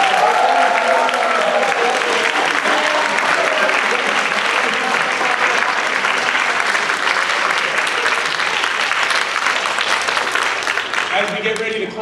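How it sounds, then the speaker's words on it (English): A loud, sustained round of audience applause at an All-American Marching Band event, a thick wash of many hands clapping that stays strong for about twelve seconds before easing slightly at the end. "Let's give them another round of applause."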